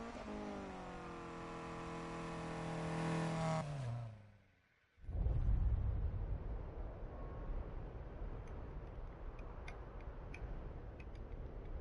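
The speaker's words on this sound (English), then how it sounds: "So let's give this thing some nitrous." A car's engine in an older Need for Speed game revs up in rising harmonic steps, cuts out briefly, then a nitrous boost bursts in with a loud broadband roar that settles into a sustained rushing drone with faint ticking.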